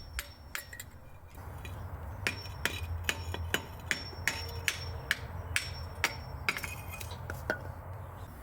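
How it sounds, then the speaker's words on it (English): Metal brake pads hammered out of the caliper bracket on an 8th-generation (2006-2011) Honda Civic, a steady run of about twenty sharp, ringing strikes at an even pace, close and loud with no talking. "I had to beat the friggin' brake pads out of that bracket"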